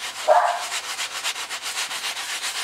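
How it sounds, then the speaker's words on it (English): Sandpaper rubbing over a freshly glued wooden wing joint of a Bellanca Decathlon build, a quick run of soft, even back-and-forth scrubbing strokes, close and moderately loud, with no talk. "While it's still wet, I take some sandpaper"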